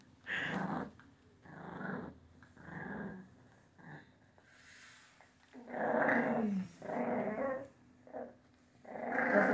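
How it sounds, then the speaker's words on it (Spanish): A small, fierce-tempered puppy growling in bursts, close and fairly loud, with low rumbling snarls and whiny yelps in an irregular rhythm across the stretch. "va a ser de estos bravos este perrito"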